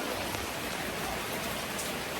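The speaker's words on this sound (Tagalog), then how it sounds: "Umuulan pa din at nandito pa rin ako." Steady rain falls, a continuous dense hiss with soft patter on a surface, even in level and uninterrupted, with no voices.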